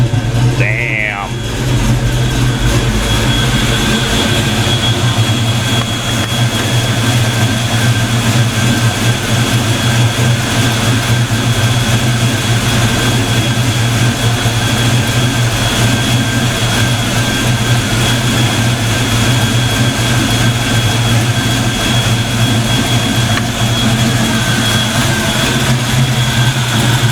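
A car idles steadily after being fitted with bigger injectors, its low engine drone holding even and loud throughout, with a person speaking briefly near the start.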